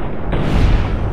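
An armor-piercing gunshot from the Fallout New Vegas game lands as a single loud, dense boom with a broad rumbling tail, heard alone.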